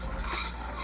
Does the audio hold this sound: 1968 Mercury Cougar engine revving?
no